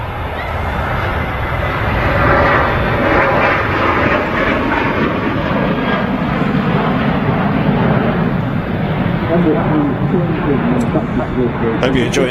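A departing airliner's jet engines at Manchester Airport, a loud, steady broadband roar that holds for the whole stretch and swells slightly midway, with a voice talking over it.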